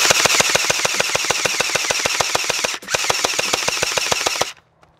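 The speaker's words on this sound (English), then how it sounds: "now I am shooting from the rocks" A gel blaster fires outdoors from rocks in a steady, fast stream of sharp snapping shots, loud and close. The stream breaks for an instant partway through, then runs on and stops abruptly.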